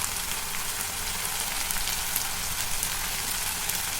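Potatoes tossed with turmeric frying in a pan for aloo fry, a dense, even hiss of sizzling oil that runs unbroken and close throughout.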